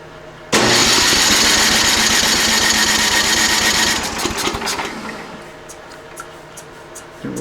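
A Snapper snowblower engine fires up abruptly and runs loud and close for a few seconds. Then its level sags and wavers unevenly as it keeps sputtering along more quietly.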